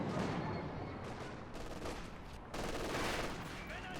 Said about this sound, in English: Panzer IV is opening fire.